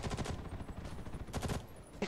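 Dense, rapid gunfire from the online shooter Ghost in the Shell: First Assault, with overlapping shots rattling steadily through the whole moment at close range and no talking.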